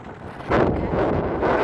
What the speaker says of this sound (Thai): เสียงเครื่องบินด้วย เสียงน้ำทะเลด้วย